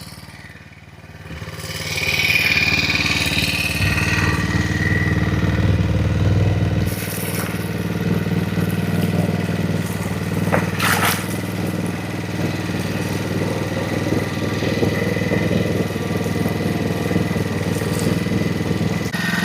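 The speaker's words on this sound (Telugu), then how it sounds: "గైస్ చూసారు కదా, మనమైతే ఇంజన్ స్టార్ట్ చేసాం అనమాట." A small farm machine engine, freshly filled with oil and water, starts and then idles loudly and close by with a steady, rough chugging. No voices are heard.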